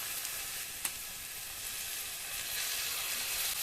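A tablespoon each of vinegar and soy sauce hitting a hot frying pan, giving a steady, close hiss of sizzling that swells slightly toward the end, with one small clink early on.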